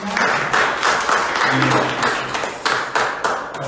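A crowd at a local party committee meeting applauding steadily for a by-election candidate, dense clapping that holds throughout with a few sharper claps standing out near the end.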